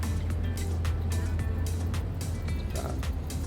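A low, steady truck engine rumble in Farming Simulator 22 drones throughout, with faint clicks and rattles on top; no voices.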